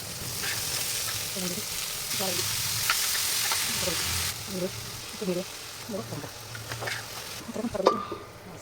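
Onion and panch phoron fry in a pan with a steady close sizzle, and a voice talks over it throughout.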